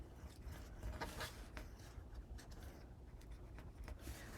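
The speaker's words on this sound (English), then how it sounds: "So I'll burnish this cardstock and then I'll fold it down." Cardstock burnished onto chipboard by hand, soft scratchy rubbing strokes repeating close up and quiet, with no voices.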